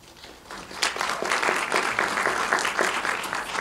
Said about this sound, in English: if your clapping overtakes their time, they don't get any extra time